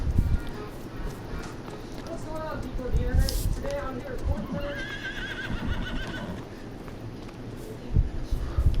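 A horse in a farming video game whinnies in a rising, wavering call over a continuous rumble of hooves and background noise, with a second shorter neigh following.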